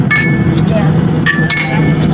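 Glasses clink together in a toast at a christening celebration, a few bright chimes ringing out over the low hum of a busy room while a person speaks briefly.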